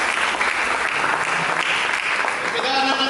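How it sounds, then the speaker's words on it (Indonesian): A church congregation claps during an Indonesian sermon, producing a sustained, loud wash of many hands clapping that fills the room, with a voice faintly present beneath the noise toward the end. "Berikan tepuk tangan bagi Yesus Kristus."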